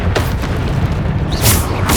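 Bombarda spell blasts in Hogwarts Legacy, a dense run of deep booming explosions with a sharper burst near the end, loud and continuous with no talk.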